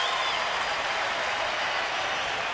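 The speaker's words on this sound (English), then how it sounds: "Astros fans cheering for Berkman." Astros fans at a baseball game cheer and applaud, a steady wash of clapping and crowd noise from a large stadium audience, loud and unbroken throughout.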